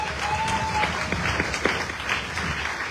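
A church congregation breaks into applause, a dense wash of many hands clapping together for the full few seconds, with a voice faintly heard underneath.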